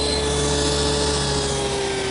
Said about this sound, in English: The tenons are made here at the table saw using my stacked dado head cutter.